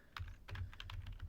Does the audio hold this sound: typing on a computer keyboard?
yes